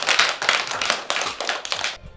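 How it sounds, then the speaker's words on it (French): A classroom group of schoolchildren claps in a quick rhythmic burst, close and loud, for about two seconds before stopping abruptly. "Applaudissez pour moi"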